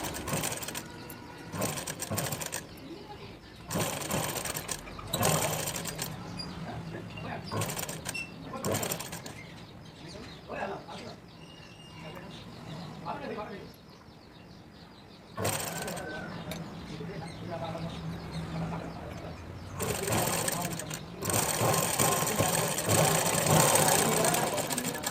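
A sewing machine stitches the front neck of a blouse in several short bursts of rapid mechanical whirring separated by pauses, with speech between the runs.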